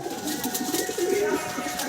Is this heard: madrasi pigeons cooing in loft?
yes